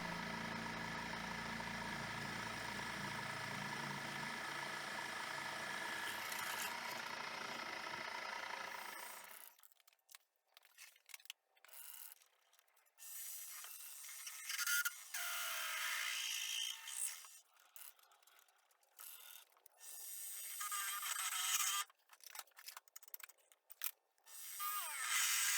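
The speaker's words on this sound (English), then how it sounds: "I'll give it a head start by drilling it out to start with." A power drill bores into aluminium as a pilot hole before a Forstner bit, starting with a steady whirring motor drone, then breaking into irregular bursts of grinding and clicking as the bit cuts, close by with no talk.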